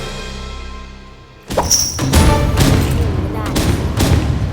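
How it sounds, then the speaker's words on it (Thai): In the Roblox video game, a sniper rifle fires in a burst of sharp, loud cracks and thumps after a quiet opening. Several shots land close together over game noise. "วันนี้ผมจะมาสอยคนนั่นเองครับด้วยปืนสไนเปอร์"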